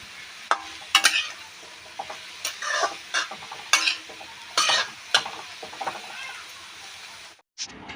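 Beetroot and potato sizzle softly in a pan for Bengali beet bhaja while a spatula stirs them in repeated scraping strokes. The strokes come in an uneven rhythm over the steady frying, with a brief pause near the end.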